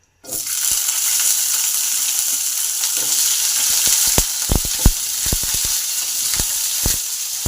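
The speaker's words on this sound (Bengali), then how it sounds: "পটলগুলোকে পরিষ্কার করে ধুয়ে প্যানে তুলে দিলাম" Pointed gourd frying in hot oil in a pan gives a loud, steady sizzle that starts abruptly and continues throughout, with scattered sharp pops and crackles in the second half.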